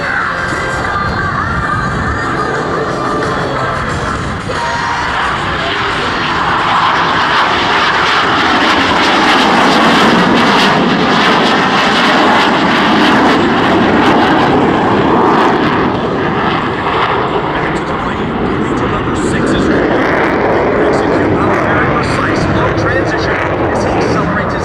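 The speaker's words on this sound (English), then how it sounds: "He will then roll his aircraft 360 degrees with the landing gear extended." Blue Angels jet taking off at the 2012 Sioux Falls airshow and rolling 360 degrees with landing gear extended: a loud, sustained roar that swells and shifts in pitch for over twenty seconds, with an announcer talking over it and crowd noise.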